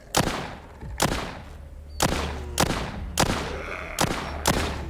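Shots fired at a zombie horde in the video game The Walking Zombie 2, about eight sharp, loud single gunshots spaced roughly half a second to a second apart, each with a brief echoing tail.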